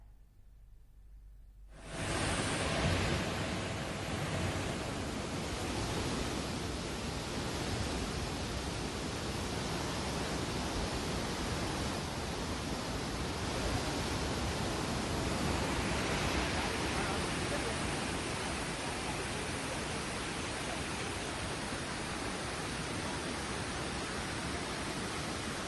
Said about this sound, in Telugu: ఈ 2 జలాశయాల గేట్లెత్తి దిగువకు నీటిని విడుదల చేస్తున్నారు.